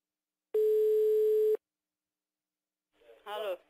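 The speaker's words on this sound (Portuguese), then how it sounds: "Eita, chama, tá chamando." An outgoing phone call's tone on a prank call: a single loud, steady electronic beep lasting about a second, then silence, followed by a brief burst of a voice at the end.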